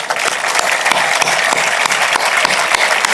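Audience at a Camp de Tarragona campaign rally breaks into sustained, dense clapping, loud and continuous for a few seconds with no speech over it.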